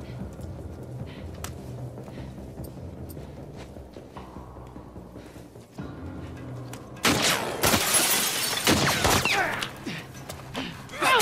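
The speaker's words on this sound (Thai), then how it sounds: "โอ้ยปาระเบิด" In The Last of Us Part 2, gameplay footsteps and rustling build before a grenade detonates in a loud, sharp blast, followed by crackling debris and gunfire.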